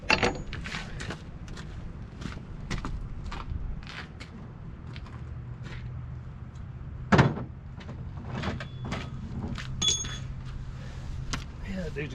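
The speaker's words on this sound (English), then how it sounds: "get the door open" Someone opens the cab door of a Cat 953C track loader that is under repair. It gives a single sharp clunk partway through, under ongoing talk and a steady background hum.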